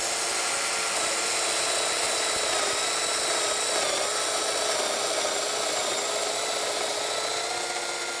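A router bit plunges into hard maple clamped to a bench, cutting a 14 mm mortise with a continuous high-pitched whine and steady cutting roar, close and loud throughout.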